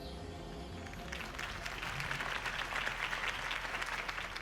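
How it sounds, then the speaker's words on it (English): Crowd applause follows a campaign speech in Batman: The Telltale Series, swelling in after a fading musical chord into sustained, fairly loud clapping from a large gathering with no talk over it. "could have heard that applause"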